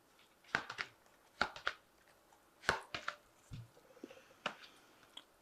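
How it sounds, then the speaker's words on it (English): Tarot cards drawn from an Animal Tarot deck, giving a series of soft, crisp card flicks and shuffling slides in uneven bursts, close and fairly quiet with no talking. "So I'm just going to draw some cards from the Animal Tarot."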